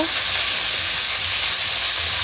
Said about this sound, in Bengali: নুন দিয়ে একটু ভাজা ভাজা করে নিচ্ছে